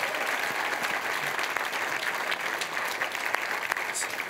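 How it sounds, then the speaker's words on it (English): Sustained applause from an audience at a science communication competition final, a dense, steady wash of clapping filling the whole stretch at even loudness. "So, collective round of applause, I think, at this point, call for."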